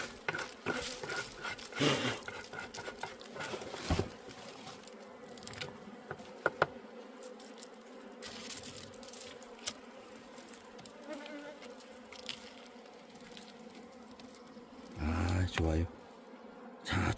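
Honeybees buzz around a hive at the start of a honey harvest, a continuous droning hum with individual bees passing close, accompanied by scattered handling noises and brief bursts of movement.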